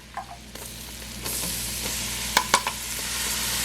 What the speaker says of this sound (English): While it's melting, I'm actually gonna go ahead and put in the onions.